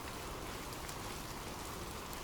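Steady rain falling in an even, unbroken hiss, soft and constant throughout with no other sounds.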